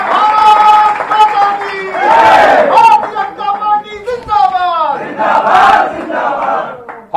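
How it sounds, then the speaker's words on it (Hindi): Crowd at a political rally in Indore cheering and shouting loudly in sustained waves, with a dip midway before the roar swells again. "जोरदार तालियां बजाकर उनका स्वागत करें।"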